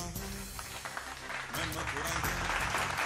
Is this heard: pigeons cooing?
no